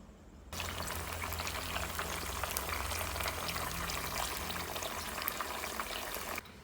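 Tilapia fish frying crispy in hot oil gives a steady, loud, dense sizzle that runs unbroken for about six seconds, with no voices over it.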